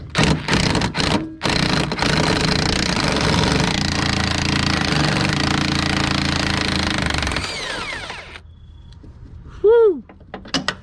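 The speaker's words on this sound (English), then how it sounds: "We're beating the heck out of this adjustable wrench today, guys." Rapid, sustained metallic hammering on an adjustable wrench while working on the rear end of a 1974 Volkswagen Beetle, loud and close for about seven seconds before it stops, with a few scattered clanks afterward.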